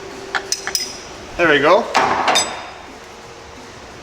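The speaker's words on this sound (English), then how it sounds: "if we maybe use this to hook underneath it and then hammer it, maybe I'll be able to pop it out." A few sharp metallic hammer blows on a tool hooked under a fuel injector to pop it out, short clanks near the mic amid tool clatter, with someone briefly speaking.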